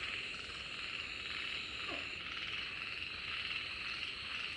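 Frogs croak steadily in a hidden swamp deep in a forest, a dense continuous chorus close by with no pauses and no talking.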